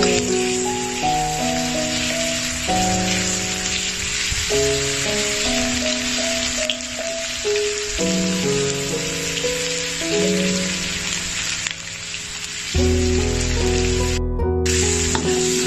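Garlic and tomato sizzle steadily in a hot pan with pork, a bright continuous frying hiss running under background music for the whole stretch.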